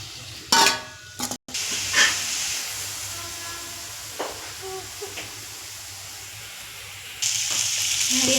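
Tomatoes hitting hot oil in a chicken gravy, a sharp loud hiss that settles into a steady sizzle with scattered stirring knocks, then a fresh burst of hissing near the end.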